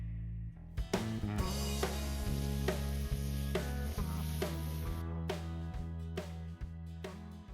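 Steady sizzling of steak and sausages frying in a pan over a campfire, with occasional clinks and sharp taps of utensils over a constant low hum.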